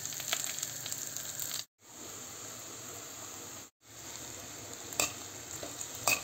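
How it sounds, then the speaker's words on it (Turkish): Water poured into a pot of rice that is being toasted, setting off a loud, steady hiss and sizzle broken by two brief gaps, with a few sharp spatters near the end. "Şimdi kavrulmakta olan pirincin içerisine 4 ölçek suyumuzu ekliyoruz."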